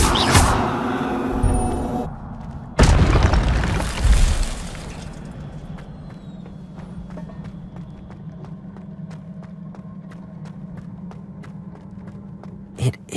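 Spell effects from the video game Hogwarts Legacy: two loud bursting whooshes, the second heavier and longer, followed by a low, steady rumbling hum with faint scattered clicks.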